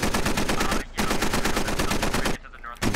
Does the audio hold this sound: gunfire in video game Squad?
yes